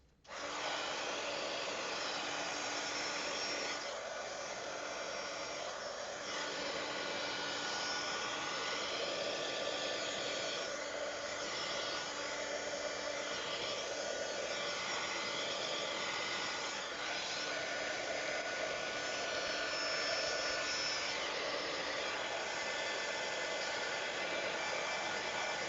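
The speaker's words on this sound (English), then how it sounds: "And then I'm going to dry this." A hair dryer blows continuously at close range over a handmade Christmas craft project, a steady loud whooshing roar with slight shifts in tone as it moves, and no talking.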